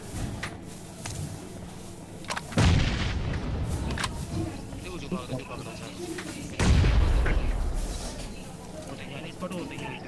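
Two booming AWM sniper rifle shots in PUBG Mobile, spaced about four seconds apart, each a loud sharp blast with a rumbling tail over steady game ambience.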